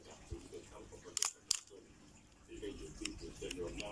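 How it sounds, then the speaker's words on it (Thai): A repaired Nikon FA film camera fires its shutter at 1/4 second, two crisp close mechanical clicks in quick succession, with someone speaking softly around them. "ชัตเตอร์1/4ครับ"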